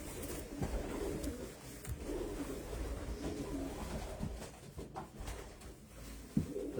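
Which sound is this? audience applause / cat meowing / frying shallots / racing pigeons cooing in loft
racing pigeons cooing in loft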